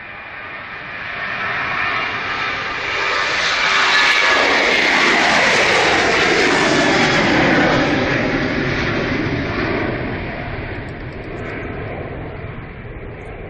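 A Ryanair jet airliner bound for Dublin passes at Manchester Airport with a loud, broad engine roar that swells to a peak and then slowly fades, with no voices.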